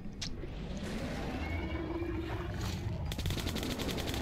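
Sustained military-grade rifle fire in Metro Last Light, a dense, steady rattle of shots over a busy combat background, with a sharper burst of rapid reports near the end.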